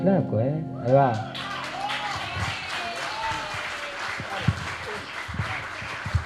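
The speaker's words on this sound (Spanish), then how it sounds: "Aplauso para el flaco, ¿eh?" Theatre audience breaking into applause after sung lines, with a voice and music heard first, then scattered clapping and crowd noise spreading under continued sound.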